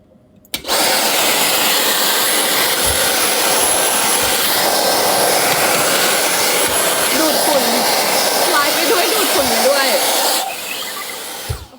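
A loud, steady vacuum roar sucking up snack crumbs drones for about ten seconds, then cuts off abruptly, with a faint voice underneath.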